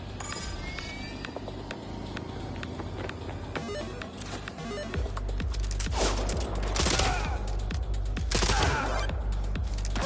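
Video game gunfire from a three-round burst weapon, sharp repeated shots in quick clusters over a steady game background, growing louder and denser toward the end.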